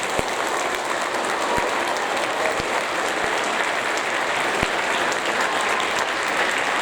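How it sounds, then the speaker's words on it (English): Steady applause from the audience at a sixth-grade school awards ceremony, a dense, even wash of many hands clapping, with a few sharper individual claps standing out, sustained for several seconds with no talking. "Now we can give that a round of applause."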